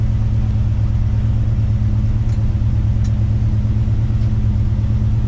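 A big-block 454 engine in a Chevrolet C10 pickup idles loud and close, a steady low rumble with an even throb, running alone without talk.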